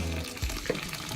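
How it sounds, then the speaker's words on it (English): Hot water from a kettle pours steadily onto rice in a bowl for washing, a short close splashing stream. "I add the hot water there."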